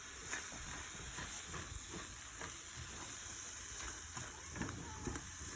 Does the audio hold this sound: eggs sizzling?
yes